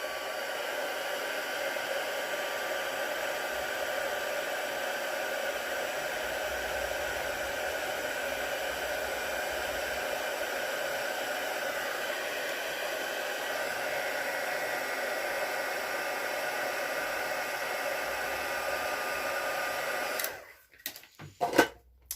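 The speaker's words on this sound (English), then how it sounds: "So I just use my heat tool and emboss that." A heat embossing tool blows steadily on a stamped Stampin' Up! card, a loud, even rushing hiss that runs unbroken for about twenty seconds before it shuts off abruptly near the end.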